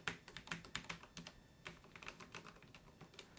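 Low-profile switches on an Alienware 510K keyboard clatter in quick, irregular bursts of close, crisp keystrokes, fairly quiet overall with no talking.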